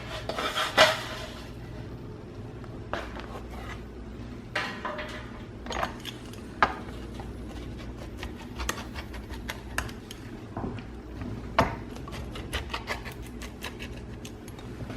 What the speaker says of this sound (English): I'm going to take it off and I'm going to slice it up